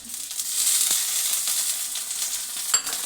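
Tomatoes and green chillies sizzle in hot oil in a home kitchen pan, a continuous close frying hiss with a few small pops and no talking.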